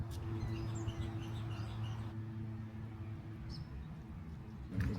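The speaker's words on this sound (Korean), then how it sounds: "조용하고 한적한데 새소리도 너무 좋아." Birds at the quiet Ayutthaya temple ruins in Thailand give a few faint, distant chirps and tweets over a low, steady background hum, with no talking.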